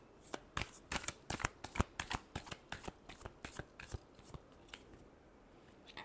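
Tarot cards are shuffled by hand in a quick, close series of crisp riffling snaps that trail off toward the end, with no voices.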